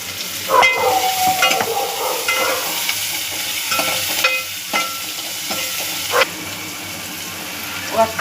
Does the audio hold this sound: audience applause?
no